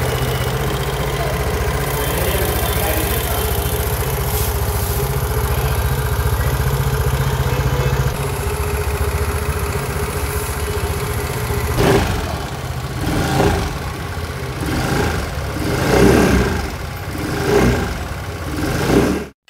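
A 2023 Vespa 125 scooter with a single-barrel exhaust and silver muffler cover idles steadily up close, then revs in several short blips near the end.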